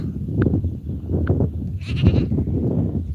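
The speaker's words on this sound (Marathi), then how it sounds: "लगेच बकरं सोडायचे वेळ झालाय" Goats in a herd tended by shepherds bleat repeatedly and close by, several short cries over a steady low background rumble.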